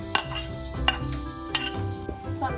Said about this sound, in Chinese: 锅中倒入一汤匙的食用油，然后爆香蒜蓉